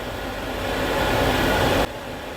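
An LG condenser dryer runs with a steady, loud broadband whir and rumble, holding constant before dropping slightly in level near the end.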